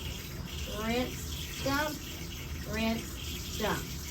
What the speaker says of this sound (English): Once you turn that water on, it starts splashing.